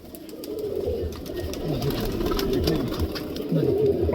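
Large pigeons at a breeder's loft in Maliabad coo softly and repeatedly, their low throaty calls overlapping in a steady murmur against background noise.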